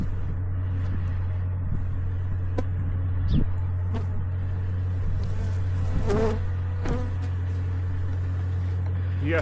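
Bees from a killer bee colony hum steadily around an opened hive with exposed brood, a constant low drone running throughout with a few brief rustles and knocks over it.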